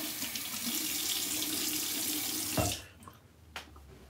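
Cold water streams from a tap into a sink while rinsing a safety razor, a steady close splashing rush that cuts off after about two and a half seconds, followed by a few faint drips and taps.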